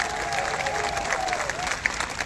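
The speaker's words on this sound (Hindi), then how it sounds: "दोनों प्रत्याशियों के लिए जोर से ताली बजाकर स्वागत" Crowd applauding at a BJP political rally in Mapusa, North Goa, a steady dense wash of clapping from a large outdoor audience, sustained throughout with a few sharper claps standing out.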